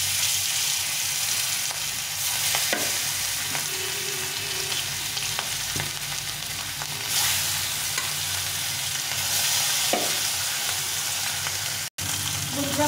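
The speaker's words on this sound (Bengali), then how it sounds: "তেলের মধ্যে মাছটা ছেড়ে দেবো।" Fish frying in hot oil, a continuous loud crackling sizzle heard up close, with occasional louder bursts and light stirring clinks.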